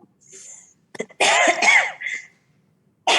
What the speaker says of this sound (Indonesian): Kedengaran Bu batuknya.